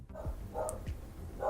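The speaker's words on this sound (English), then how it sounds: "Oh, Rog, please don't bark during this recording." A dog barks a few short, soft woofs indoors during a behind-the-scenes recording, somewhat distant and quiet against room noise.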